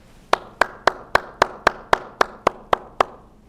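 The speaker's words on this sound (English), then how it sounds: "Please join me in applause for those who received the presidential citation." A single pair of hands claps in even rhythm, about a dozen sharp, evenly spaced claps at a commencement ceremony, close and clear with no crowd around it.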